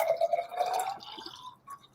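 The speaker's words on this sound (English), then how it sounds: "now I'm going to put cold water on in the blue bottle" Cold water is poured into a bottle during a classroom convection demonstration. It makes a short, faint splashing, trickling fill that tapers off within two seconds.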